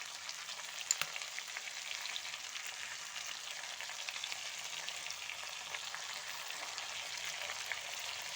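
A paste of onion, ginger and chili frying in a pan for a chicken dish, a steady, fairly quiet hiss of sizzling oil with faint stirring ticks throughout.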